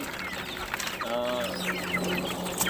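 Free-range village chickens kept at a small home farm cluck and call nearby, with one bird giving a clear drawn-out cackle in the middle over a low steady background hum.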